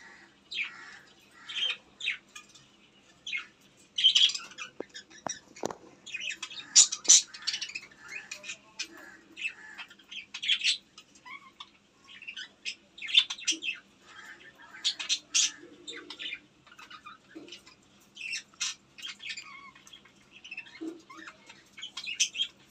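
Small caged birds chirp and tweet in scattered, quick bursts while pecking at chickpeas, the calls fairly close and steady over a quiet room.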